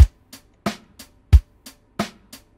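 A programmed neo soul beat of kick drum and snare alternates over closed hi-hats ticking on every eighth note, a steady, dry pattern played alone.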